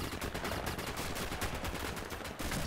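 Sustained rapid machine gun fire from the World War II shooter video game Red Orchestra rattles continuously at a fairly distant, moderate level, bursts blending into a dense steady barrage.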